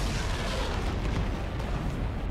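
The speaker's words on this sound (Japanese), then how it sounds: "大砲に注意しろ。" Heavy cannon fire in the feudal Japan stealth game Shadow Tactics: Blades of the Shogun, a deep continuous booming rumble filling the scene without pause, loud and close.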